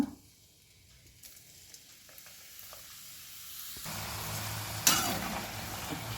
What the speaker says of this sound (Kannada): ಈಗ ಎಣ್ಣೆ ಕೂಡ ಬಿಸಿಯಾಗಿದೆ ಈಗ ಒಂದೊಂದಾಗಿ ಎಣ್ಣೆಗೆ ಇದನ್ನು ಬಿಡ್ತಾ ಹೋಗಬೇಕು